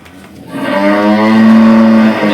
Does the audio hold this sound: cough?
no